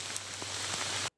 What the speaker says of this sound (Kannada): ಪಶ್ಚಿಮ ಘಟ್ಟ ಪ್ರದೇಶದಲ್ಲೂ ಕೂಡ ಧಾರಾಕಾರ ಮಳೆ.